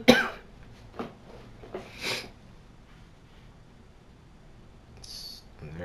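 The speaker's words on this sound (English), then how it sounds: "I'm very sorry about the coughs." A few short, harsh coughs and throat-clearing bursts come in quick succession near the start, then quiet room noise and a faint high sound.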